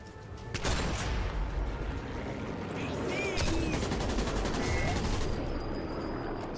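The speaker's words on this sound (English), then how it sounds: "Some pretty wild shooting there." Rapid gunfire bursts in the video game Sniper Elite 4, dense overlapping shots over a rumbling battle background, sustained and loud throughout.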